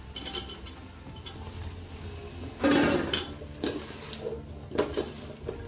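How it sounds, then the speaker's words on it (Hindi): Tomatoes tipped into a pan of green chickpeas cooking, with metallic clinks and scrapes of utensils against the pot and a louder clatter in the middle, close and intermittent. "अब मैं इसमें टमाटर डालूंगी।"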